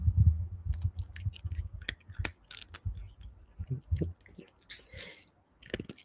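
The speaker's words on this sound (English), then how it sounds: "come here right up here by the mic to do the crunchies because we like the crunchy noises" Pet crunching dry treats right up against a microphone, irregular close chewing crunches and clicks at a steady pace, fairly quiet with no talk.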